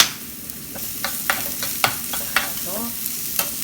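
Ground garlic fries and gets stirred in a pan while making milk butter pasta: a steady close sizzle runs throughout, broken by repeated scraping stir strokes at an uneven rhythm, with no talking.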